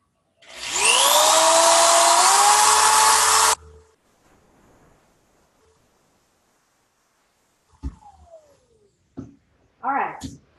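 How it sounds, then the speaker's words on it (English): A loud, high-pitched electric drill whirs steadily for about three seconds, drilling a hole in a DIY bird feeder, then stops, followed by faint clicks and handling noises. "hold up my trusty drill here. And I'm just going to put a little hole in this"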